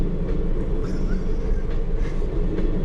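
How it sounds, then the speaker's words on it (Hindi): A Vande Bharat train passes at night near a jungle road, a dense rumbling roar of wheels and carriages with faint rhythmic clacks, steady and fairly close throughout. "कौन सी जा रही है ये ट्रेन?"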